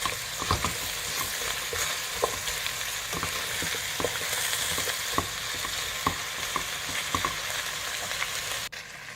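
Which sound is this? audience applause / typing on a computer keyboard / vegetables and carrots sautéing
vegetables and carrots sautéing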